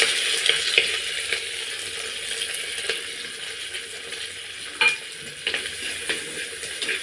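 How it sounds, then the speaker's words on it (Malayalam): Onion, green chili and garlic sauté in hot coconut oil in a pan for a Kerala crab and green banana curry. A soft steady sizzle runs under repeated scraping stirs and occasional utensil clinks, with no talking. "ഇതെല്ലാം കൂടി നല്ലോണം വഴറ്റിയെടുക്കണം കേട്ടോ"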